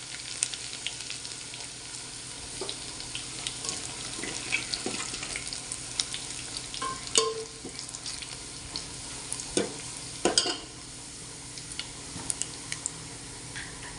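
Garlic sizzles in hot oil as a tempering for spicy amti, a steady broadband crackle with occasional sharper pops and spatters, close and moderately loud, no voices.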